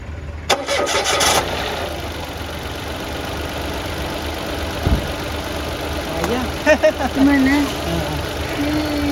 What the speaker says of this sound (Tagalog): kayang-kaya ng ating emergency car jump starter and power bank mapastart ang ating kotse